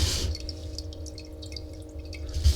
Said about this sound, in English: Okay, so this is the fountain.